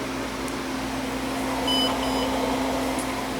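An old computer powering up gives short electronic beeps over a steady fan and mechanical hum, the tones coming in a brief cluster partway through and fairly close.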